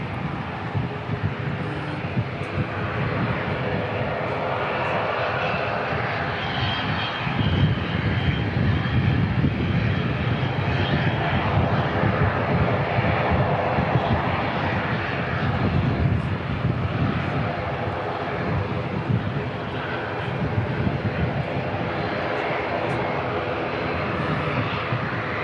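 An airliner arriving from Invercargill at Christchurch Airport, a steady loud roar of aircraft engines that swells slightly after the first few seconds and holds broad and continuous throughout.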